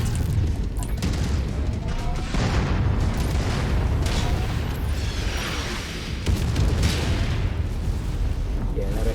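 Artillery blasts pound a giant mech in the MechWarrior 5: Mercenaries video game, with dense, continuous booming explosions and rumble filling the whole stretch and swelling in repeated waves, while a voice talks underneath.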